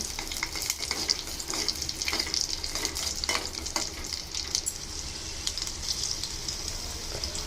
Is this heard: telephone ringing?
no